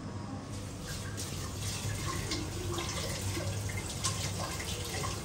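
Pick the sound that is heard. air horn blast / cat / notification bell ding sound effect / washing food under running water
washing food under running water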